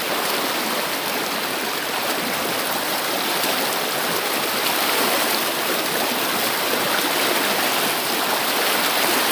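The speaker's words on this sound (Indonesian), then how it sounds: "Arus aliran sungai ini lumayan cukup kuat" A strong river current rushes over rocks in a deep inland stream, a loud, dense and unbroken roar of water close by with no voices.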